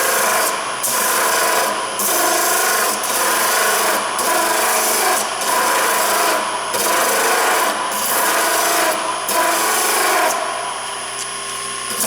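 Coarse 60 grit sandpaper scraping back and forth over wood, loud, close, continuous rasping strokes in a steady rhythm with brief pauses between passes.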